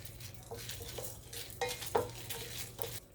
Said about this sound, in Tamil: 2 பட்டை, 1/2 ஸ்பூன் சோம்பு, 1/2 ஸ்பூன் சீரகம், 1 ஸ்பூன் மிளகு, 1 ஸ்பூன் தனியா, 5 காஞ்ச மிளகாய் இதெல்லாம் போட்டு நல்லா வறுத்து எடுத்துக்கணும்.